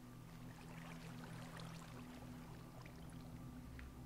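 In the Minecraft video game, water rushes steadily down a waterfall as a character climbs it, making a constant soft, pouring wash with no pauses, fairly faint and with no voices.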